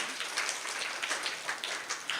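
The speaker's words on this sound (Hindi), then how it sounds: "जोरदार तालियां बजाओ सुकृत जी के लिए।" An audience at an annual Arya Samaj celebration gives a round of applause, a continuous wash of many clapping hands at moderate distance.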